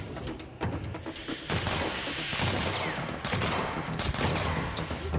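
Rapid bursts of gunfire rattle through a Control firefight, loud and close, with dense overlapping shots and thumps across several seconds and no voices.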